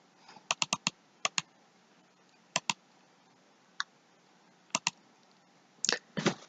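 An email address and password are typed on a computer keyboard, with close, crisp keystrokes in short bursts separated by pauses and a quick flurry of clicks at the end.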